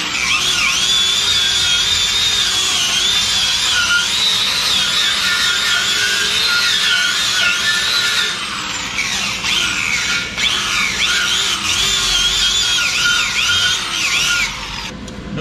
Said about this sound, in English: I'm gonna go ahead and brush these off.